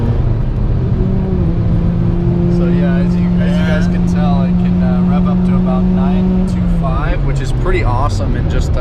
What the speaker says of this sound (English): as you guys can tell, it can rev up to about 9